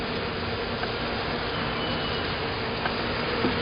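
Dense, steady buzzing of many honeybees swarming close around an opened hive during an inspection, continuous and loud with no pauses.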